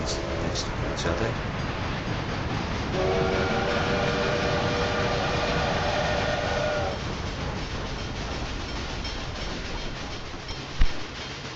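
Two trains run side by side on parallel tracks in the Railway Empire 2 video game, a steady rumble with faint clickety-clack and a brief tonal whine in the middle, under a speaking voice.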